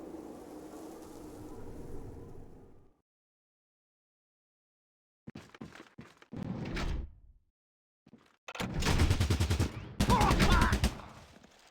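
Gunfire in Fallout Tactics: Brotherhood of Steel, with loud bursts of shots in several clusters after a quiet stretch, some short and separate, the last two long dense volleys.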